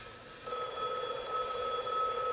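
A telephone in a video game begins ringing partway through, a steady electronic tone held at moderate, slightly distant level with faint background hum.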